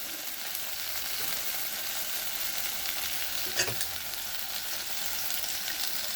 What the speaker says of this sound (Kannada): ಸ್ವಲ್ಪ ಗರಂ ಮಸಾಲ ಮನೆಯಲ್ಲಿ ಮಾಡಿದ್ದೀವಿ ಹಾಕ್ಬಿಟ್ಟು ಚೆನ್ನಾಗಿ ಮಿಕ್ಸ್ ಮಾಡ್ಕೋಬೇಕೀಗ.